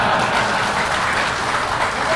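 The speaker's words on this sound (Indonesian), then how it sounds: "Jangan dulu tepuk tangan" Audience applause follows a humorous Indonesian religious lecture, a steady dense wash of clapping filling the room at close range for the whole short stretch, with no break.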